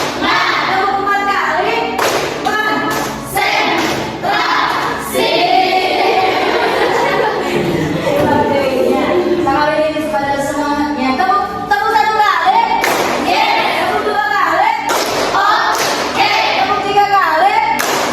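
A classroom of students claps in counted groups of one, two, three and four claps, with sharp bursts of hands close by. Between the bursts an adult leads and children call out.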